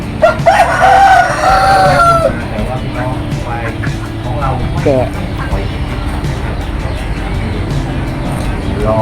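A rooster crows near the start at a livestock products fair with ducks, chickens and cattle, followed by a steady outdoor rumble with scattered bird sounds and distant voices.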